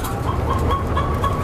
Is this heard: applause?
no